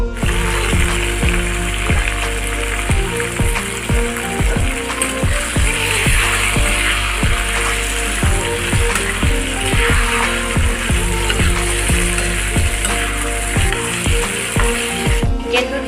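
Chicken frying in hot oil with onions and chillies, a loud continuous sizzle with bursts of crackling and a rhythmic scraping of stirring throughout, no talking.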